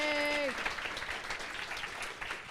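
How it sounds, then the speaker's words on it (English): A hackathon closing-ceremony audience breaks into dense, sustained applause that fills the room from start to finish, with a brief tone fading out at the opening. "a big round of applause to everybody for themselves"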